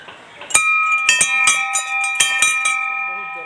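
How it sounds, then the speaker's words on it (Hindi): A metal temple bell struck repeatedly, about eight ringing strokes in quick uneven succession, each leaving a bright sustained tone that overlaps the next. "पहले तो घंटी बजाते हैं"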